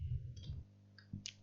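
A computer keyboard gives a few soft, faint key clicks in quick succession while someone types Python code.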